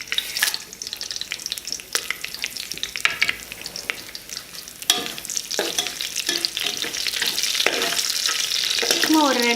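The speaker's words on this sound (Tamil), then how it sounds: "சும்மா ஒரு 2-3 செகண்டு ஃப்ரை பண்ணி முடிச்சதுக்கப்புறமா நம்மளுடைய வெங்காயத்தை ஆட் பண்ணிக்கலாம்." Bay leaf, cloves, cinnamon, fennel and cumin frying in ghee for Chettinadu mutton biryani, a continuous close sizzle with scraping stirring strokes throughout, growing slightly louder toward the end.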